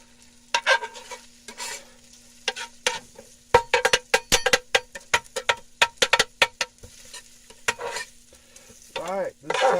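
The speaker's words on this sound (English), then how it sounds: "Just take it and flip it all around with your two spatulas." Eggs fry on a hibachi griddle in a van while two metal spatulas scrape and clack against the hot surface. The clacks come in quick irregular bursts over a soft sizzle.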